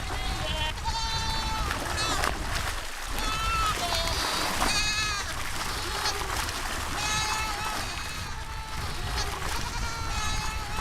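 A herd of sheep bleats repeatedly and loudly, near and overlapping, as the animals are hauled out after slipping during a chaotic river crossing in the Mongolian taiga, with narration and scuffling running beneath.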